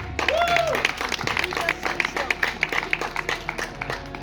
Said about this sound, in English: So a big cheer for Joe as well.